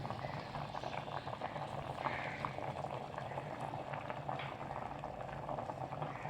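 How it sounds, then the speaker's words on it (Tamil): A pot of mutton kurma curry bubbling at a steady boil, continuous soft popping and gurgling, close and moderately quiet, with no talking. "இப்போ குழம்பு வந்து நல்லா கொதிச்சிருச்சு."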